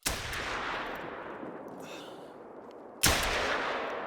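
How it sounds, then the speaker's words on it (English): Two loud gunshots from a .243 handgun in theHunter: Call of the Wild, each a sharp crack with a long echoing tail, spaced about three seconds apart. "This is the max zeroing of the pistol."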